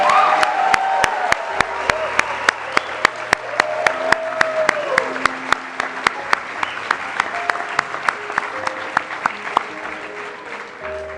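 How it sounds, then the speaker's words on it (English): Audience applause at an engineering induction ceremony, honoring mechanical and materials engineers; a sustained, steady crowd of clapping runs throughout, with sharp regular claps standing out near the front and some tonal background sound underneath. "let's give a round of applause to our mechanical and materials engineers"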